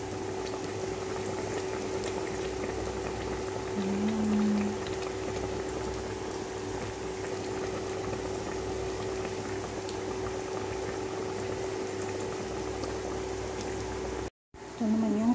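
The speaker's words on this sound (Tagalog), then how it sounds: "So ayan, kumulo na siya." A pot of pigeon pea (kadyos) soup boils at a steady rolling bubble, close and continuous, with a constant low hum underneath.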